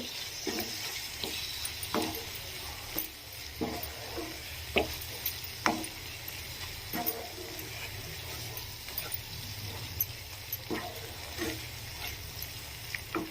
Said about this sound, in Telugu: వన్ టేబుల్ స్పూన్ ధనియాల పొడి మనం తినే కారం బట్టి రెడ్ చిల్లీ పౌడర్ వేసుకొని మొత్తాన్ని ఒకసారి మంచిగా కలుపుకోవాలి